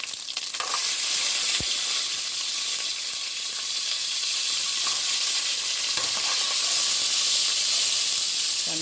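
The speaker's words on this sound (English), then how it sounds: "We're letting the Epis fry. Then you add your onions and garlic." Epis, onions and garlic fry in a pan, giving off a steady, even sizzle and hiss throughout, with a couple of faint clinks from the pan, heard up close and without talk.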